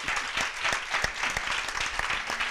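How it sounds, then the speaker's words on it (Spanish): An audience at an evening lecture on the spiritual side of psychedelic experience gives a continuous round of applause, moderately loud and even, with a few sharper individual claps standing out. "Un aplauso, un aplauso."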